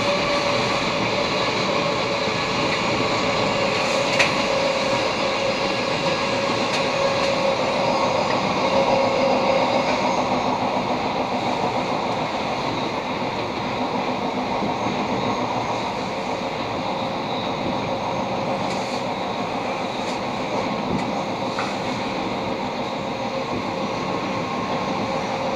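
An RER D commuter train runs through the Paris suburbs between Stade de France Saint-Denis and Goussainville, heard from inside as a steady, loud rolling rumble with rail noise that holds level throughout, with no voices.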